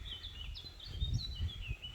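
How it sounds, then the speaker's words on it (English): Birds chirping along the Royal Trail from Peles Castle to the Franz Joseph rocks in Romania, a few faint high calls scattered through a quiet mountain outdoor scene with low rumble beneath. "can you hear the birds?"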